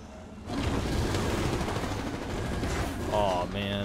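Automatic rifle spray in Apex Legends, a dense and steady stream of rapid shots running for about three seconds at close range, with game interface tones near the end.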